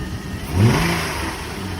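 A car with a 3.5 V6 engine, at a city auction, revs briefly in one quick rise and fall and then settles into a steady, close mid-pitched idle, with no voices.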